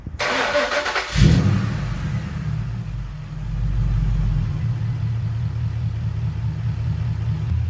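A high-mileage Ford V8 with 280,000 on the clock cranks over briefly, then catches and roars to life before settling into a steady, loud, rumbling idle close by.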